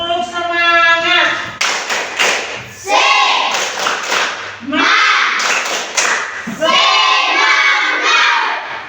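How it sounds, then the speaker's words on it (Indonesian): A group of people performs a tepuk semangat, a rhythmic spirit clap, with sharp, loud bursts of clapping in a patterned beat, interspersed with voices chanting and calling out. "Tepuk semangat."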